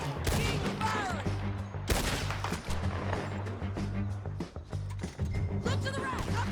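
Loud volleys of gunfire in Red Dead Redemption 2 crack and echo in rapid bursts, with metallic clacks and shouting voices woven through the battle.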